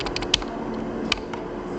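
Someone types HTML code on a computer keyboard: a quick run of light clicking keystrokes with a few sharper taps standing out, close and alone without talk.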